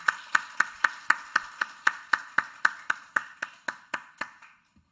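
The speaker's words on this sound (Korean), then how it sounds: "격려와 축복의 박수 함께 나누겠습니다." A church congregation claps in unison after a prayer in a Sunday morning service, about twenty crisp, evenly spaced claps that slow slightly and fade out.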